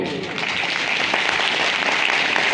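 An audience claps at a talent honour ceremony held by Bhim Army in Udaipur, a loud, dense, continuous burst of applause filling the hall, with a voice faintly underneath.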